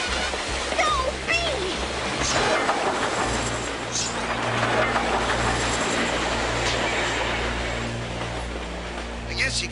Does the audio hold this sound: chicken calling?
no